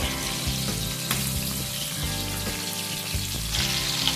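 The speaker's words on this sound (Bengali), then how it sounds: "অল্প অল্প মাছ আমি ভেজে নেব, একসাথে সমস্ত মাছ ভাজবো না" A few soft bhetki fish pieces fry in a pan of hot oil, giving a steady close sizzle with brief crackles and small bursts of spatter.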